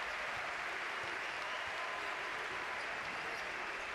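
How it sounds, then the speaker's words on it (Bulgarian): Basketball arena crowd in a Spanish ACB league game between Valencia Basket and Monbus Obradoiro applauds a player late in the game, a steady, distant wash of clapping and crowd noise throughout. "Аплодисментите, разбира се, са за Ерик Грин"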